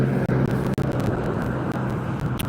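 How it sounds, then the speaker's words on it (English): Steady, loud road traffic roars continuously nearby, a dense rumble of passing vehicles with no break and no voices. "the traffic's a little loud here"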